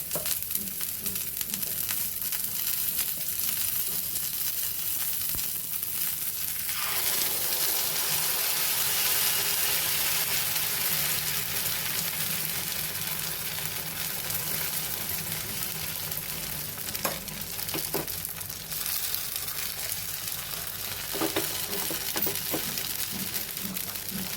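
Makhana uttapam batter for a fasting meal sizzles and fries steadily on a pan over a very low gas flame. The crackle is continuous and close, with no talking.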